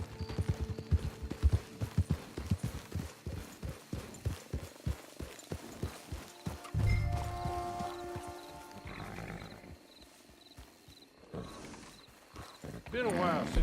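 Horse hooves clip-clop at a steady walking rhythm in Red Dead Redemption 2, close and distinct, with a brief snort partway through and game music and voices talking over the hoofbeats.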